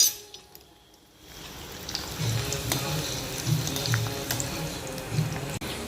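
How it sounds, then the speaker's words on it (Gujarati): Steady crackling sizzle of okra and onion frying in oil, with occasional soft clinks of utensils against the pan. "એક સાઈડ આપણી ડુંગળી શેકાય છે અને એક બાજુ આપણા ભીંડા ફ્રાય થાય છે, તેલમાં તળાય છે"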